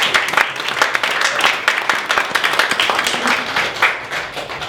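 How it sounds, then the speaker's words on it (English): Applause from an audience at a London coaching academy session, with dense, steady clapping that holds loud and close for the whole stretch with no talk over it. "a little round of applause"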